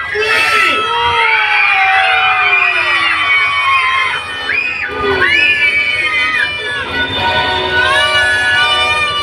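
A large crowd at a monster truck show screams and cheers loudly and continuously, with children's high shrieks and whoops rising and falling in a dense, sustained roar close by.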